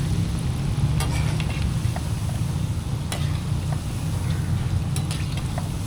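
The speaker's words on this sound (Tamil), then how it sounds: "சில நேரம் அந்த பொரியிற சவுண்டு வந்து ஹெவியாக இருக்குது," Ring murukku fries in hot oil with a dense, continuous bubbling sizzle, broken by a few sharp crackles and clinks, and no voices.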